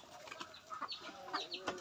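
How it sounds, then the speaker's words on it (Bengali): Chickens let out of their coop in a rural yard cluck and chatter in short, irregular calls, moderately close and fairly soft, with no talking. "এখন মুরগিগুলো চালানো হয়েছে, দেখেন সবগুলো দৌড়াদৌড়ি করতেছে"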